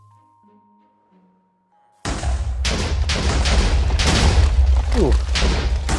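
Explosives blowing up in Minecraft, beginning after two seconds of quiet with a sudden loud blast that rolls into sustained rumbling, crackling detonations as one charge sets off another, and a voice briefly reacting.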